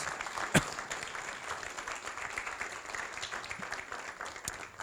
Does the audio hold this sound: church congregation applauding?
yes